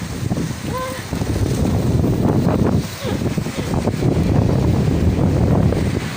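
Heavy wind buffets the microphone in a loud, continuous rumble, with a brief lull near the middle and faint voices underneath.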